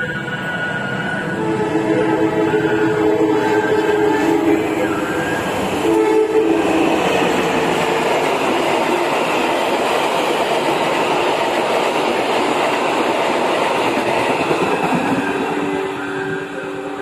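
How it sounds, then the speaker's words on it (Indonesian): The Penataran passenger train rumbles past close by an abandoned halt at Ngagel, Indonesia, with a long horn blast, wheels clattering continuously as carriages roll through. "kereta api penataran dengan nomor kereta 371 sudah melintas di sini"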